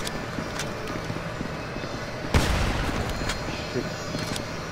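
A single loud gunshot blast in a deathmatch in the video game GTA 5 Online, set at a saw mill, rising sharply over steady game ambience, with fainter shots around it.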